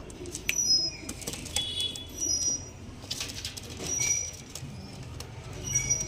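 Pigeons, red-headed lalsira type, flap their wings in a loft, with several soft fluttering bursts close by over a steady background rumble.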